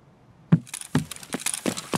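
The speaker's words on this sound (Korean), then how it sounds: "이거 왼쪽에서 발소리 났거든요?" Footsteps approach from the left in Escape from Tarkov, a series of sharp, irregular clicks and taps on a hard surface, starting out of near silence and continuing in quick succession.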